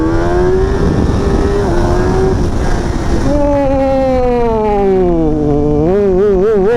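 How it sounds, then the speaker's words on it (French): A stock 2025 Kawasaki ZX-10R sportbike with a 203-horsepower engine accelerates hard at sunrise, its loud, close engine note climbing and wavering through rising revs with no voices. "Première accélération avec ce 10R."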